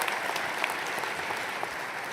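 Commencement audience applauding a graduate at a university ceremony, a dense continuous wash of clapping from a large crowd, steady and fairly distant, lasting briefly with no voices over it.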